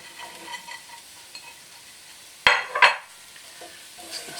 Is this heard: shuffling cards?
no